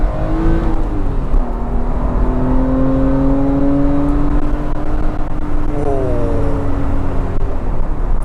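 A Porsche 997 engine revs while driving, its pitch climbing and falling through gears in rising sweeps, loud and close over steady road and cabin noise.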